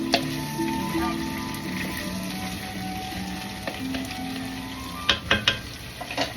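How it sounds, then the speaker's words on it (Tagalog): Shrimp sizzling in a hot pan, a steady close frying hiss with occasional stirring clatter and sharper pops near the end, no voice over it. "Lutuin natin hanggang kumulang ang ating hipon."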